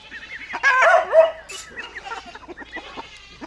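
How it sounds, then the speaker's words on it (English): Dogs bark at cows on a farm while goats and chickens call nearby, a burst of loud animal cries up close, then scattered quieter barks and clucks. "The dogs are barking at the cows, and the goats are wanting me to feed them."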